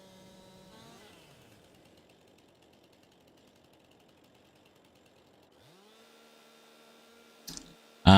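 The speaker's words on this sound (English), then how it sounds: "where did that chainsaw come from?" Chainsaw in Farming Simulator 22 idles faintly and steadily in the distance, then its engine revs up to a higher pitch, followed by a sudden loud burst of noise at the very end.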